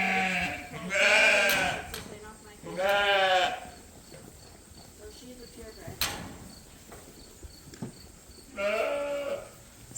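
Sheep bleat loudly three times in wavering cries, spaced apart, with quieter farmyard sounds and faint insects between.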